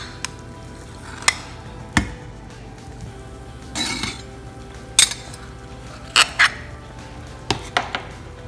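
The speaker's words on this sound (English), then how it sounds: "I'm going to add jaggery into this" Jaggery is added to a sour and sweet okra curry cooking in a pan, with scattered sharp utensil clinks and stirring scrapes over a low background hum and no talking.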